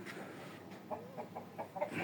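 Short clucking calls from a fighting rooster, several brief cackles in a loose rhythm over steady background noise, moderately near.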